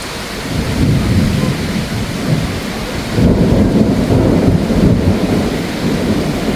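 A sudden storm in Izmir with rain pouring steadily and low thunder rumbling, the roar swelling louder about halfway through and holding on as a dense, continuous wash of sound.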